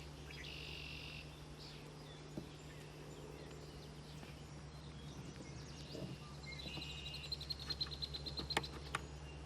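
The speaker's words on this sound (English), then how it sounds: "there's a chickadee chirping in the trees" Faint high chickadee chirps in trees by an old quarry, scattered over a steady low outdoor hum, growing a bit busier toward the end.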